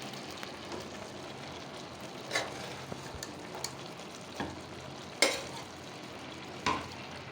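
Chicken pieces stirred into rice in a pot of chicken biryani, soft steady sizzling with a few sharp scraping knocks of the spoon against the pot, no talking.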